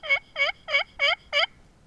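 Five quick evenly spaced yelps from a hunting slate call imitating a wild turkey, crisp and close in a quiet setting, ending abruptly.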